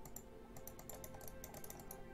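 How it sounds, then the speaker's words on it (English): Quick, irregular clicking and key-tapping at a computer during a Hammerting game session, faint and close, with no voices. "I am clicking on all the things."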